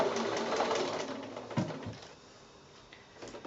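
A sewing machine back stitches at the edge of a quilt binding, a close rapid whirr that fades down as the stitching stops, leaving a few faint clicks.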